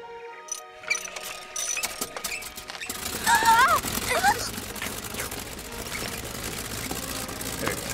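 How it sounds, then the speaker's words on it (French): A cartoon inventor's horse-dung vacuum cleaner runs as a busy mechanical whir with ratcheting, clattering machine noise and squeaky tones, steady and close over music. "Vous tombez à pic pour assister aux essais de ma dernière invention, l'aspirateur à crottin."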